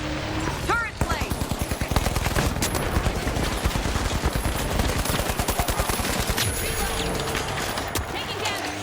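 Turret gunfire in the first-person shooter game THE FINALS rattles in rapid, evenly spaced bursts, a sustained mechanical chatter of shots over game ambience, with a voice talking.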